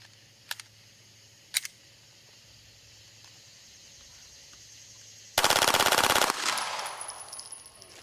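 Machine gun firing a burst of about 15 rounds, a loud rapid continuous rattle lasting roughly a second, preceded by two sharp isolated clicks and followed by a decaying echo.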